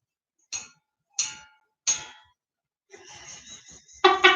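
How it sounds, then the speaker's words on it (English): A giant metal coat hanger struck with a spoon rings out in three separate clangs about half a second apart, each decaying quickly, followed by a sustained shimmering metallic tone and a final louder, brighter strike. "now I'm going to donk the giant coat hanger with the spoon"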